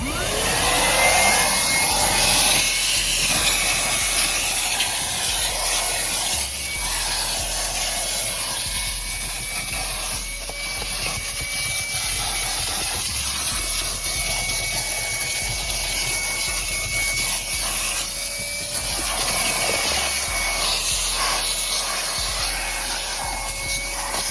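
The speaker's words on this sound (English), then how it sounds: "Just gonna vacuum it real quick. I'm gonna go in speed 2. Actually, you know what? For the video, we'll do it in turbo mode" EGO cordless 9-gallon wet/dry shop vacuum running in turbo mode, a loud continuous whine and rushing airflow held steadily throughout with slight shifts in pitch.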